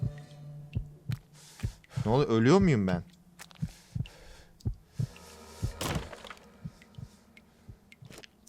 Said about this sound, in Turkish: Kalp atış hızı.